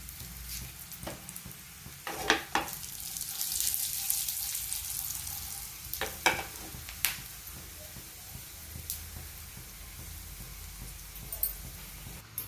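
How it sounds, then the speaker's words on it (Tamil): Mustard seeds, dried chillies and asafoetida sizzle in hot oil while tempering for spinach, a steady close frying hiss with stirring scrapes and several sharp spits and crackles scattered throughout. "கீரை தாளிச்சிக்கலாம். வடுகம், காஞ்ச மிளகாய், கொஞ்சம் பெருங்காயம்."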